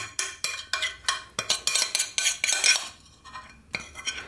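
A utensil stirs a white chocolate mixture in a bowl with quick rhythmic scrapes and clinks, close and fairly loud. A short pause comes before the stirring resumes.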